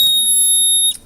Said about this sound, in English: This is one of the little alarms. It screams louder if